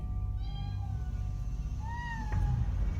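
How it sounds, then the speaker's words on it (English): A cat hidden in a room across an apartment gives two drawn-out meows, the second louder, muffled by distance over a steady low background hum. "as the ladies were talking, the cat was responding while it hid itself in a room across their main apartment"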